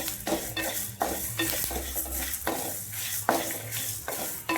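Curry leaves sizzling in a pan for temple-style tamarind rice, with rhythmic stirring scrapes about once a second over a steady frying hiss, close and fairly loud.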